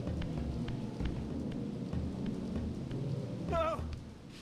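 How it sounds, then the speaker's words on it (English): Heavy rain and rumbling thunder fill a dark stormy scene in the remastered Legacy of Kain: Soul Reaver game, a dense steady roar throughout, with a brief wavering tone rising near the end. "Oh shit, it's raining."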